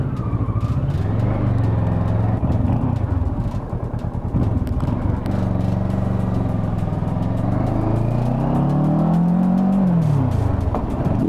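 A Kawasaki Versys motorcycle being ridden after a check engine light fix, its engine loud and close, droning steadily and then revving up and easing back down.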